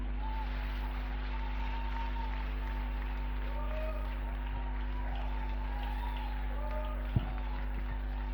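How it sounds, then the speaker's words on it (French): A congregation at a Sunday church service applauds in praise, with dense, steady clapping held at an even level throughout, a low hum underneath and one brief knock near the end. "Let's clap for Jesus."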